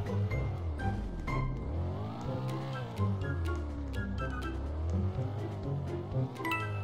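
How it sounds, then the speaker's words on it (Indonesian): A car engine in a Roblox GTA 5-style game roars loudly and continuously, pitch sweeping up and down as it revs, with some tyre squeal and scattered clicks over the top. "Suara mobil mana"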